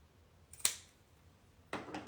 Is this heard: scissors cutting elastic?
yes